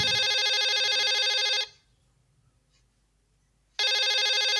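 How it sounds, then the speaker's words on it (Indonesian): An old telephone rings with a bright electric bell, one loud burst, a gap of about two seconds of quiet, then the ringing starts again, close to the listener. "Emang telepon ini bisa bunyi, kan dia nggak nyambung."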